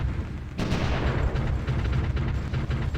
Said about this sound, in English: our artillery finally decided to start firing